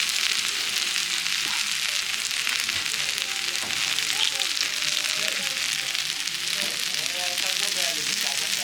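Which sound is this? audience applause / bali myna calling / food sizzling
food sizzling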